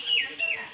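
A rooster tangled in a net lets out a short, strained squawk, close and brief, with a faint voice nearby.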